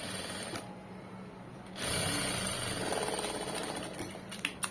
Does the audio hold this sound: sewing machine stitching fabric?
yes